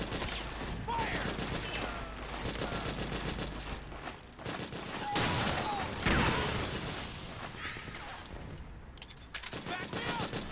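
Bursts of automatic gunfire and scattered shots crackle through a battle in Metal Gear Solid 4, fairly faint and uneven, with shouted voices over the fighting.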